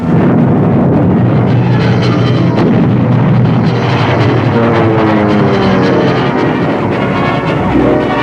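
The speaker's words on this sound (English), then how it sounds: "American bombers joined the battle." American bomber aircraft engines in a wartime battle, a loud, continuous propeller-engine roar with steady droning throughout and no talk.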